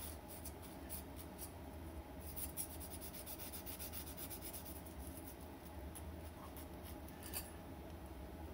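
Sandpaper rubs back and forth over burnt-on residue on a stainless steel gas stove, giving a continuous faint close gritty rasp with brief brighter scratchy strokes and no talk.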